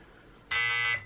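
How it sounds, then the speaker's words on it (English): A single sustained electronic beep from a Hobbywing Quicrun 10BL120 brushless RC ESC in setting mode, a steady tone lasting about half a second, clear and close over a quiet background. "The long beep is for the fifth."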